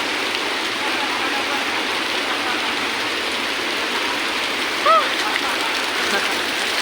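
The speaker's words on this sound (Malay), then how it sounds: "Kita dah sampai air terjun Bukit Dinding." The Bukit Dinding waterfall on Gunung Jerai pours in a constant broad rushing roar up close, steady throughout, with a faint bird chirp briefly over it.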